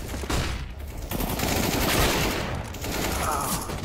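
Rapid gunfire from the video game CS:GO, a dense, continuous barrage of shots and clatter that stays loud and steady across the whole stretch, with no talking.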